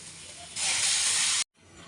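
Hot water poured into a pan of frying masoor lentils with green chillies gives a loud burst of hiss and steam that cuts off abruptly, leaving a faint simmer.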